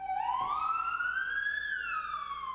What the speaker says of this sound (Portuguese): Sirenes acordaram moradores desta rua num dos bairros mais caros da cidade